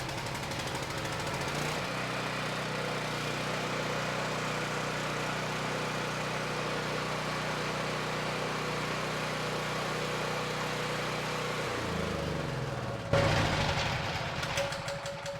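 A Honda GX390 engine on a Black Max generator, freshly rebuilt carburetor, runs at a steady, even idle for about ten seconds before shutting down, followed by a brief burst of louder close-up noise.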